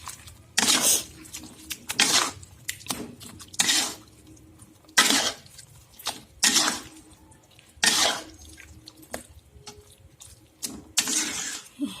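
Fried egg, tofu and eggplant are stirred in a pan with the heat switched off, giving intermittent scraping, clattering strokes of a utensil against the pan with quiet pauses between them.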